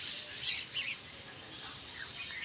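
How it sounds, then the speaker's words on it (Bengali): Birds perched on tree branches give two sharp, loud chirps close by, then fainter scattered calls over a quiet outdoor background. "কত পাখিরা এসে"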